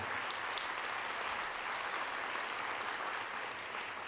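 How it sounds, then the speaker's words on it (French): Faint, distant audience applause at an evening event, a soft continuous wash of clapping held at a low level throughout. "Et vous pouvez applaudir, puisqu'elle était là avec moi depuis 10 ans."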